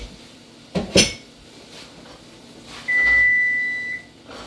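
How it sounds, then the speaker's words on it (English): A few clinks of dishes, then a single steady electronic beep lasting about a second, like an oven signalling it is ready, nearby. "As you hear, the oven is now ready."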